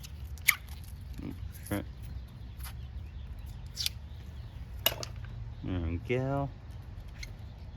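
Tape being stretched and wrapped around a citrus graft: scattered light clicks and rustles, then a couple of short squeaky stretching sounds close by, quiet overall, with brief speech.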